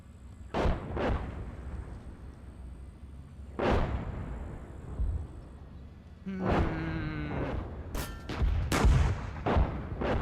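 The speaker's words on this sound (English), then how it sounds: "That was artillery." Artillery fire in the PC tank game Gunner, HEAT: several heavy booming blasts at irregular intervals, some sharp and close, with rumbling tails over a steady background hum.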